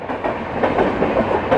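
Passenger train running along a railway line in India, bound from Rajendra Nagar Patna to New Jalpaiguri and Kamakhya, heard close by as a steady broadband rumble with rhythmic clickety-clack of wheels over rail joints, continuous and loud.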